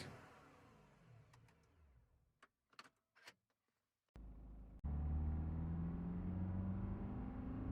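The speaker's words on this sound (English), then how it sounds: "BMW 420D. Sounds a bit too nice for a Commodore, right?" BMW 420D from a sound effect library: engine rumbles, a few clicks and mechanical knocks, then the car starts and settles into a loud, steady idle close by.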